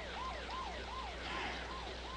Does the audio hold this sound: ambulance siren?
yes